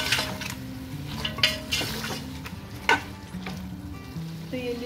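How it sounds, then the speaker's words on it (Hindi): Chicken fries with ginger garlic paste in a pan for a Kashmiri chicken harisa, a steady close sizzle broken by occasional metal clinks of stirring and utensils, no talk. "इस अदरक लहसुन के पेस्ट के साथ भी इसे चिकन को खूब अच्छे से भून लेंगे"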